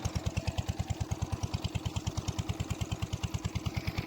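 A diesel engine chugs steadily with a fast, even low thump, running alone at a moderate distance.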